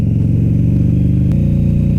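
A 2014 Harley-Davidson V-Rod motorcycle's large engine of about 1600 cc revs up close and loud, a steady throbbing drone that shifts pitch partway through, with no talk over it.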